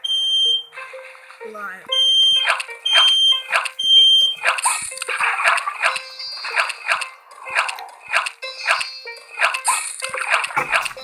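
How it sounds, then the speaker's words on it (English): A beeping zombie alarm sounds in the Plants vs Zombies 2 video game, with repeated bright electronic tones and ticks over game music, and a single spoken word partway through. "that was my zombie alarm to indicate where the zombies are coming."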